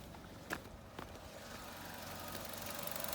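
A Chevy Trax's Ecotec 1.4 turbo engine at about 75k miles, with misfire and underboost codes and a chirping fault, idles quietly with a soft, steady hum and a couple of light clicks near the start.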